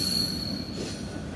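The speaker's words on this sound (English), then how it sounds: "S998, which is a Union Pacific train carrying 2 Brightline train sets." A Union Pacific freight train carrying two Brightline trainsets at CSX Howell Yards in Evansville, Indiana gives a steady rumbling roll with high, thin wheel squeals ringing over it, close and continuous.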